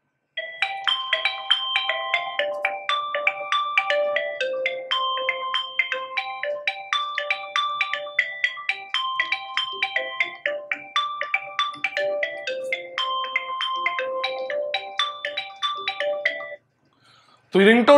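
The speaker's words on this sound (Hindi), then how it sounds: "एक और रिंगटोन को प्ले करते हैं दोस्तों।" A chiming, doorbell-like ringtone loops through a phone's loudspeaker in a test of Honor Play, Redmi Note 5 Pro and Xiaomi Mi A2 handsets, with crisp repeated note patterns playing loud and unbroken until an abrupt stop near the end.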